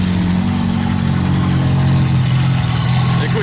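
Ferrari 430 engine idling just after starting, a steady low rumble with a faint rise in pitch, close and alone.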